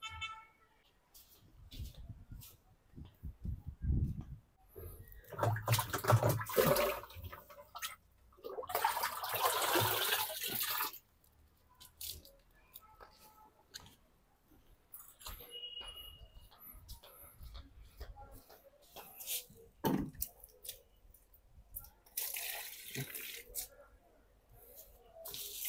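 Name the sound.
water poured onto freshly potted plants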